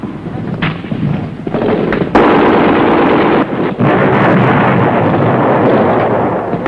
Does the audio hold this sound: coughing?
no